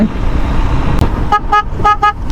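A vehicle horn sounds in a quick series of about four short, loud honks nearby, over steady road and engine rumble.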